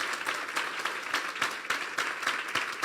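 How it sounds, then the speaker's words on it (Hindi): Church congregation at a New Year sermon claps steadily, a sustained roomful of hands with rhythmic bursts of louder clapping, fairly distant and even throughout. "इस खूबसूरत टीचिंग के लिए जोरदार तालियां बजा दें यार।"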